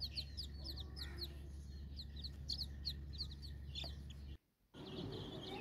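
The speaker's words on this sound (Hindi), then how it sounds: "ये दूसरी भी मुर्गियाँ हैं मेरी" Aseel hens cluck and chirp repeatedly over a steady low hum, with short bright calls coming in quick clusters throughout and a brief dropout near the end.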